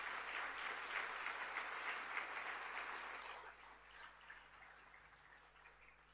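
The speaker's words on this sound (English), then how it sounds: "Give them a round of applause." Applause at a high school prizegiving for seniors, a broad, hissing spread of many hands clapping that holds strong for about three seconds, then fades to a thinner patter while a low steady hum sits underneath.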